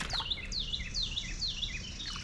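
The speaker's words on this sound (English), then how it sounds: "I'm just following the sound of the birds" Birds chirp outdoors in Alabama in autumn, quick repeated high tweets in short bursts over a steady wash of background noise, moderately faint and at a distance.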